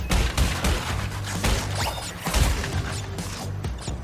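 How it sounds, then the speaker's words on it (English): Delayed explosions in an Activision video game, a rapid run of sharp crashing blasts and booms layered over a busy, dense game soundscape. "delayed explosions caused from nothing"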